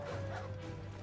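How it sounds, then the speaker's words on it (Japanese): A dog barks inside the Final Fantasy XVI video game, a soft bark heard over a steady low game hum and background ambience, with no talk over it. "犬。"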